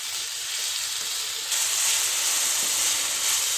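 Shredded cabbage and bell pepper sautéing in a pan for Chinese fried rice, a steady loud hiss and sizzle that swells midway, with no talking.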